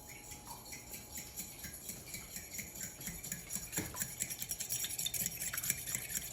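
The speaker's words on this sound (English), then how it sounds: "And I'll whisk the egg." An egg is whisked in a bowl with a steady, quick rhythmic clatter of the whisk against the bowl, soft at first and growing a little louder, close up with no voices.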